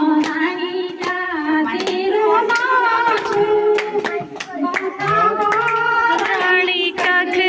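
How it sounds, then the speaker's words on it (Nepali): Steady rhythmic hand clapping at a lively family sangeet celebration, sharp regular claps over singing voices throughout, loud and close. "ताली बजाओ रे ताली ताली बजाओ ताली"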